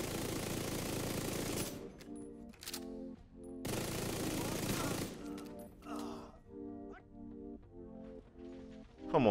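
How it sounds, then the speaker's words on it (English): Vector SMG fire in the video game The Division 2 comes in two long, dense bursts of rapid shots, close and loud. A humming, tonal background fills the gaps between the bursts. "vector just has some ferocity that no other weapon has. That fire rate is crazy."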